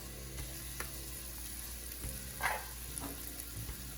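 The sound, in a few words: carrots and black pepper sizzling in pan with cabbage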